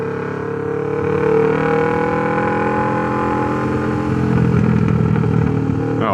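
Kawasaki Ninja 650 motorcycle engine while riding, 2018 model, loud and close with a steady droning growl that rises slightly as the throttle opens, no talking.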